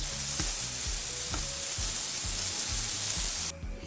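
Floured fish frying in hot oil, a dense close sizzle running steadily with a few soft clicks, dropping off abruptly near the end.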